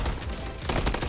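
Gunfire in Call of Duty Modern Warfare III, a dense, loud spray of rapid shots packed into about a second, with a sharper burst near the end.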